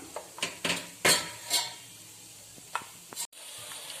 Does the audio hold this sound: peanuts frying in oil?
yes